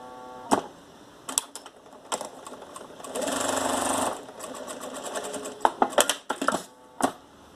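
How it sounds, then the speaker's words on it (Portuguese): Domestic sewing machine running a short topstitching seam on a fabric jewelry holder, a steady whirring burst of about a second amid scattered clicks and taps of handling fabric, close and fairly quiet. "Vou passar uma costura aqui pra rebater."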